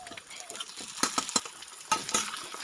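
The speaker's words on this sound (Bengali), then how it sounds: "এবার দিয়ে দেবো শুকনো মাছ।" Dried fish and half-fried onions sizzle in oil in a Bengali dried-fish bhuna, while a utensil stirs and scrapes the pan in repeated sharp bursts over a steady frying hiss.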